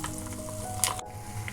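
Asafoetida and tempering spices (dried red chillies, garlic, mustard seeds, curry leaves) sizzle steadily in hot oil for mango pickle, a continuous close frying hiss with a brief sharper crackle near the end.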